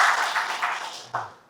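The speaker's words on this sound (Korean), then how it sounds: "박수 부탁드립니다" Audience applause at a creditors' group event in Korea, a brief burst of clapping from a crowd that fades out within a couple of seconds.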